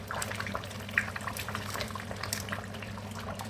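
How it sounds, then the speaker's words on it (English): Groundnut soup simmers in a cooking pot, giving a steady, low bubbling boil with faint liquid pops and no talking. "As you can see, our soup is cooking very well"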